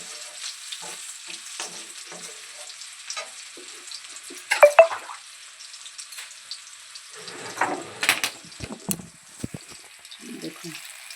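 Spices hitting hot oil in a pan after ginger and garlic, a brief loud sizzle burst followed by lighter crackling and a few clinks, nearby and without talk.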